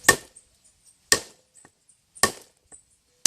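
Four sharp chopping strikes of a machete punching a hole land about a second apart, each a crisp close impact followed by quiet.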